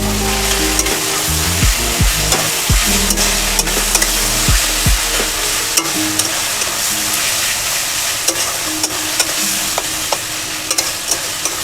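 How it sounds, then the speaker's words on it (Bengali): Garlic and ginger paste stirred in a pan while making chicken tehari, with a steady frying sizzle and repeated scraping strokes of the spoon, some sharp knocks early on, close and fairly loud. "এবার এটা নেড়ে নেব"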